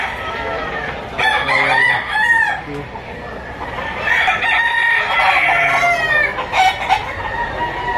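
Roosters crow repeatedly at a chicken auction market in Lipa, Batangas. Loud, close, overlapping cock-a-doodle-doos mix with clucking in a busy outdoor setting, with faint talk in the background.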